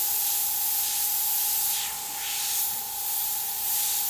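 An airbrush sprays paint in a steady, soft hiss with a faint whine underneath, laying down dagger strokes for a painted fire and skull design.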